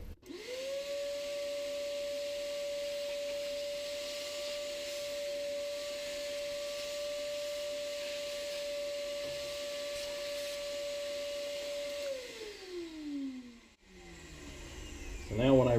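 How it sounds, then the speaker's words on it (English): A vacuum cleaner sucks up metal cutting chips from a machining setup, running as a loud steady whine that winds down near the end before a brief clatter. "now I'll just vacuum up this mess real quick"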